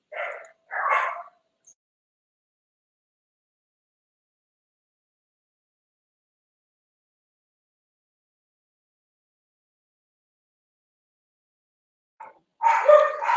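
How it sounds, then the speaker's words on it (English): Dogs bark after a delivery, two sharp barks at the start, then near silence, then another quick burst of barking at the end, fairly close. "I just had a delivery and the dogs are pissed."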